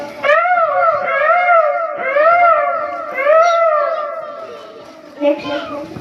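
A 6th-standard boy imitates a peacock with repeated loud, wailing, rising-and-falling calls, four or five long howl-like cries in a row, close to the listener.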